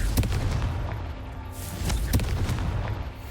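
Confringo spell blasts in Hogwarts Legacy, a couple of sharp booming impacts with a fizzing burst between them, set against constant low game rumble.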